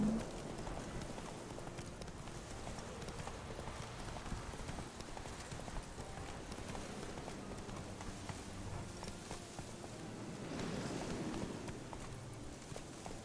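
Galloping hooves of the horse Roach in The Witcher 3, a steady fast clip-clop running throughout at close range with a rustling, noisy backdrop.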